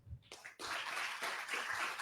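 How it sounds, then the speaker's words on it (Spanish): Audience applause greeting Dr. Santiago Juárez at a lecture event breaks out after a short pause and continues as a dense, even wash of clapping. "Recibamos con un fuerte aplauso al doctor Santiago Juárez."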